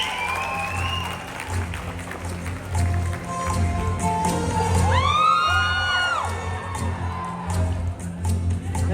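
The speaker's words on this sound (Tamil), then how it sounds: "இந்த அழுகைக்கு எங்களோட கைத்தட்டல் இப்போ உங்களுக்கு ஆறுதலாக இருக்கும் நாங்க நம்புறோம்" An audience applauds a tearful guest with sustained clapping, whoops and cheers, while a voice talks over the crowd noise.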